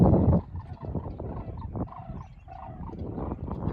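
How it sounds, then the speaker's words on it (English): Turkeys gobble outdoors near a levee in a field with corn stalks, a few rapid bursts of gobbling at moderate distance over rumbling background noise, no talking. "Happy birds out there."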